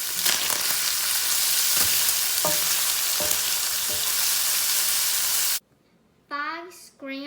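Bacon fried rice with vegetables sizzling loudly in a pan, a continuous close hiss with soft stirring scrapes, cutting off abruptly near the end before a voice speaks.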